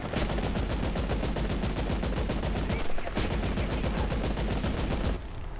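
Rapid automatic cannon fire from a helicopter in the War Thunder combat game, loud sustained bursts with a brief pause midway before firing resumes, then cutting off near the end.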